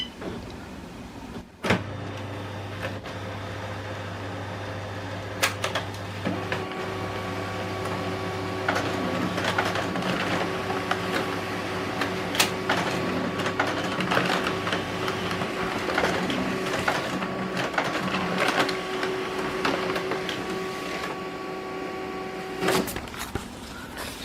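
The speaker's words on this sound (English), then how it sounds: "Press on the cancel button to wake the printer up. If it is in sleep mode, then press on the copy button." An HP LaserJet MFP laser printer copying a legal-size document gives a steady mechanical whir with a low motor hum and layered tones. It starts after a sharp click, runs for about twenty seconds and stops abruptly near the end.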